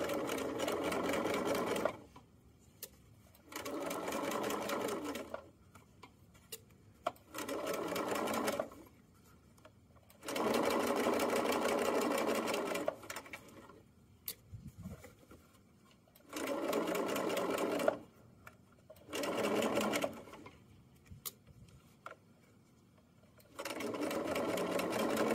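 A sewing machine back stitches and sews forward along the bottom seam of a fanny pack in repeated bursts of steady whirring, each one separated by short pauses while the fabric is handled.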